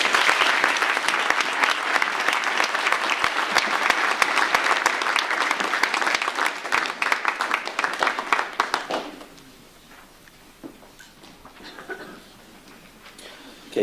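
Audience applauding at a school certificate of achievement ceremony, a dense, sustained round of clapping that stops abruptly about two-thirds through, followed by quiet room sound and faint talk.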